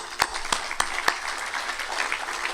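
Applause at an architecture awards dinner, a few loud separate claps at the start followed by a softer, steady wash of clapping from the audience.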